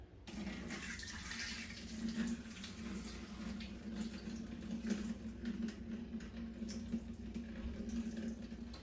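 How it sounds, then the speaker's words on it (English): Water draining steadily from a container of salted cabbage for kimchi, a faint continuous trickle and splash that holds at an even level throughout, with no voices. "I'm going to drain it a little bit more."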